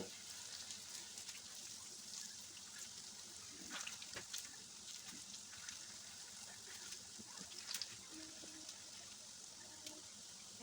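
Papaya malai kofta balls fry in hot oil, giving off a soft, steady sizzle with scattered crackles and small pops, fairly quiet and with no talk over it.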